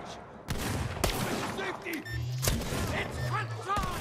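Rapid shots from a weird alien-looking gun in Borderlands 3, a fast-firing video game weapon cracking in bursts against background game noise, with a voice talking over it.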